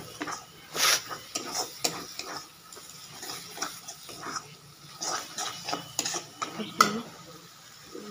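Eggs stirred and fried in a pan with tomato paste and spices, a utensil scraping and clinking in irregular bursts over a faint, low sizzle close by.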